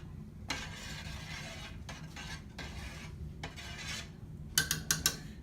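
A cooking spoon stirs condensed milk in a pot, scraping steadily across the bottom with a soft continuous rasp, then a few quick metallic taps against the pot near the end.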